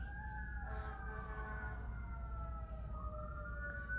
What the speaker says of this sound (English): there's sirens coming by.